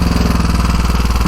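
A Velocette KTT motorcycle engine runs loud and close with a fast, steady pulsing beat, no voices over it.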